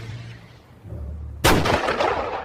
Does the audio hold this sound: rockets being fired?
yes